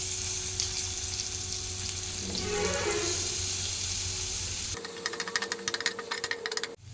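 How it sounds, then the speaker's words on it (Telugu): Onion pieces with cumin and mustard seeds frying in hot oil for an egg curry, giving a steady close sizzle throughout, with a sharper crackling burst near the end. "ఇవి బ్రౌన్ కలర్ వచ్చేంత వరకు ఫ్రై చేసేసుకోవాలి"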